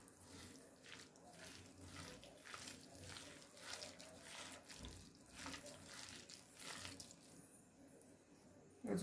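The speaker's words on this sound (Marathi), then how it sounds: "यामध्ये आता आपण पाणी ॲड करणार आहोत।" Water is poured into onion bhaji batter in a kitchen, a steady soft trickling and splashing that runs for several seconds at moderate level, with no talk.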